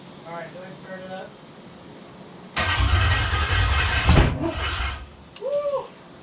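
A Volkswagen Rabbit engine fires up for its first start, bursting from quiet into a loud, rough running roar that surges and settles, with people talking before and after the start.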